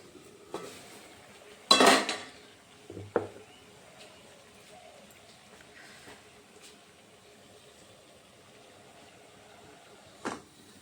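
A metal plate of chickpea-dal dhokla batter is set into a steamer pot of hot water and covered. A sharp metallic clatter comes first, then a softer clink of the lid going on, and a final light tap later in an otherwise quiet kitchen.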